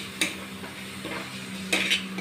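Utensil stirring a cauliflower mixture with chaat masala and chopped coriander in a pan, a few soft scraping clinks spaced across a quiet kitchen background.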